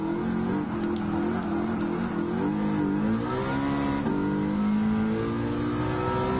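A Ford Mustang race car in Gran Turismo 7 accelerates hard from a green-light start, its engine revving loud and close, climbing through gears with rising pitch and brief dips at shifts.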